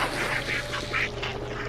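Several ducks quack in a video game, a series of short nasal calls repeating at a steady pace over a constant background hum, fairly loud and close.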